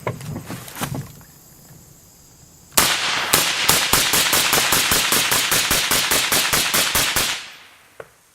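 A rifle firing M80 ball through a suppressor in a fast string of roughly twenty sharp, evenly spaced shots, loud and close, running for about four and a half seconds after a quieter lead-in.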